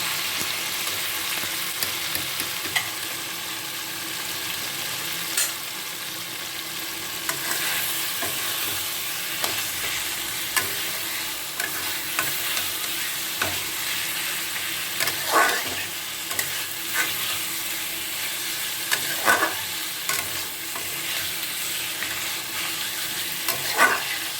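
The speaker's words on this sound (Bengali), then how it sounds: "এবার দিয়ে দেবো মাংসটা।" Pieces of young goat meat fry in a pan for a Bengali-style curry. A steady, moderate sizzle runs throughout, broken by repeated scraping stirs of a spoon, with no talking.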